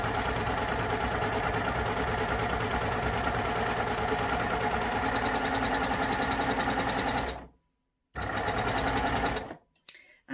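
A Baby Lock Euphoria coverstitch machine sews fabric with a steady, fast mechanical whirr for about seven seconds, then stops, followed by a brief restart and silence.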